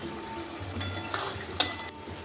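Two green chillies go into a simmering prawn and bottle gourd curry: a soft plop with a light clink of the pot and a brief stir, close and quiet over a low bubbling background.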